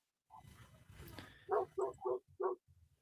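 Several dogs bark outdoors, with four loud barks in quick succession after a softer opening yip, over low rumbling background noise.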